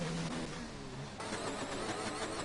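Race car engine revving in the Belgium Grand Prix round of a racing video game, a continuous droning whine with stuttering, glitchy pitch jumps, fairly loud and steady throughout, with no talk.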